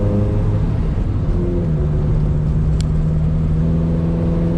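A Mitsubishi Sigma Lancer on new engine and gearbox mounts accelerates under load, a steady, loud mid-range engine drone rising gradually in tone and heard from inside the cabin, with no talking.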